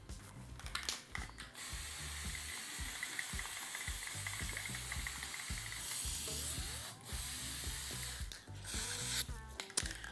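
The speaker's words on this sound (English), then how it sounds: "we're first going to apply a base coat using white spray paint" White spray paint hisses from a can in several bursts as a base coat goes onto a DIY doughnut clock, with the can rattling and clicking between sprays and no talking.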